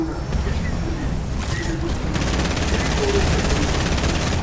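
Rapid bursts of automatic gunfire crackle continuously in Fortnite, loud and dense, with a voice talking in Spanish over the shooting.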